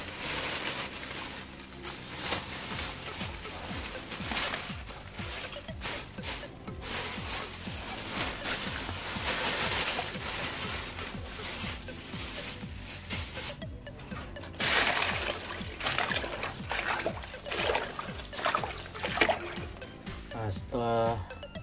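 Indian almond (ketapang) leaves rinsed in a container of water, giving sloshing, trickling water sounds throughout under a person talking steadily nearby.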